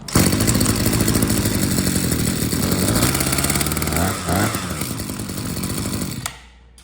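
A small two-stroke weed eater engine runs after being started with the choke on, buzzing loud and close with a few revving swells before it cuts off abruptly near the end.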